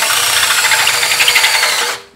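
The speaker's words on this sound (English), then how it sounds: "Might need to sharpen the drill bit, but I think we're going to get through it all right." A power drill grinds steadily at close range, a continuous high-pitched whine as the bit bores through a grade 5 steel nut, then cutting off abruptly near the end.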